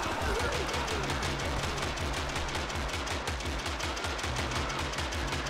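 Continuous gunfire from a gunner on a roof in the video game TABS Wild West, a dense rattle of repeated shots blended into a busy battle din throughout.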